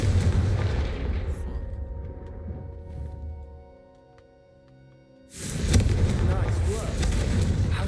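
A Confringo fire spell explodes in a fantasy video game, with a loud booming blast first and a second heavy burst after a brief quiet stretch, both under game speech.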